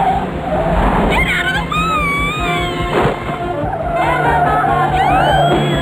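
Car skidding and screeching in the 1993 DOS video game SPEED, with loud squealing tire tones sweeping up and down over engine noise, heard under a shouting voice throughout.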